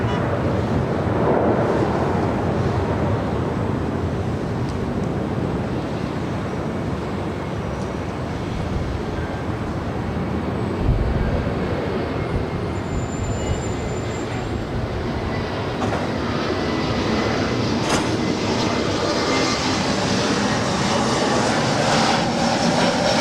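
A Southwest airliner lands on runway 24 right at LAX, a broad, steady roar of engine and wind noise holding at constant loudness, with a brief thump near the middle.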